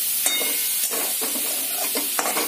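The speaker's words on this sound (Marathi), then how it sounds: "परतून झाल्यानंतर थोडा वेळ आपण गाजराला असं कढईमध्ये ठेवून देणार आहोत" Carrots stir-fried in a kadhai for a gajar mutter paratha filling, with steady sizzling and rhythmic scraping strokes of the spatula repeating about every half second, close and with no talk.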